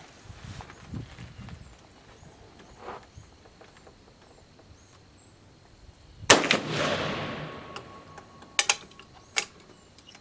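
A single loud gunshot cracks from a handgun firing a reloaded .43 Spanish cartridge with an oversized bullet, its sharp report decaying over a few seconds, with clicks of the mechanism before and after.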